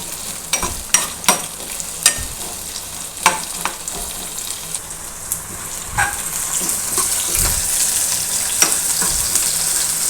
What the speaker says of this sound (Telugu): అందులోకి కొంచెం ఉల్లిపాయలు, పచ్చిమిర్చి, కరివేపాకు వేసేసుకొని కొంచెం ట్రాన్స్పరెంట్ అయ్యేంత వరకు వేగించాలన్నమాట.